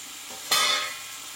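Pointed gourd, already sautéed, tipped into a pan of frying spiced lentils and pumpkin, giving a sudden loud sizzle and stirring burst that fades over about half a second against a low steady frying hiss.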